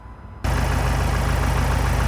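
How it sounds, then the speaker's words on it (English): Ford Transit van engine idling at close range, a steady, dense mechanical rumble that kicks in abruptly after a quiet moment and holds a constant level. "the engine is idling"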